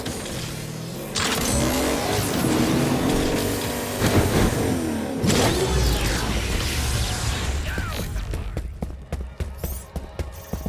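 In the Agents of Mayhem video game, a car engine revs hard and roars up through its gears, loud and close with tire noise, before breaking into scattered clunks and impacts toward the end.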